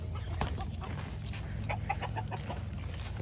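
Farm chickens clucking near a coop built from an old jet ski trailer, scattered short clucks and squawks from several birds over a low steady background hum, with no talking.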